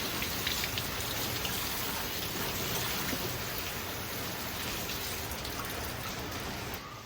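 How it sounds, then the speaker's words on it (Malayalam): Steady rain falling outdoors near a kitchen, a continuous even hiss of drops on surfaces that holds at the same level throughout, with no voices. "ഇവിടെ മഴ പെയ്തുകൊണ്ടിരിക്കുകയാണ്"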